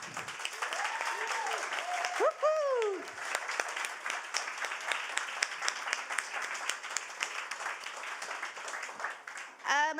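An audience breaks into sustained applause, with a few cheers and whoops rising over the clapping near the start.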